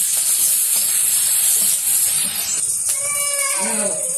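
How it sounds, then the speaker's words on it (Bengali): Chopped onion and green chilies hit hot oil in a village-style kitchen, giving a loud, steady hissing sizzle for about three seconds that then eases off, with a faint bleat-like animal call near the end. "এখন তরকারি রান্না করবো পেঁয়াজ কাঁচামরিচ দিয়ে দিল তেলে"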